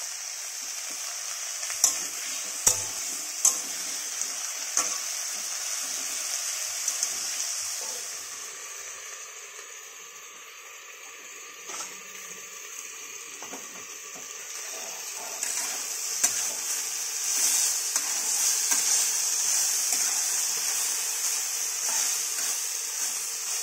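Oil sizzles and crackles steadily in a pan while food is stirred, a dense hissing bed with occasional scrape and clack accents from a utensil, moderately near and without talk.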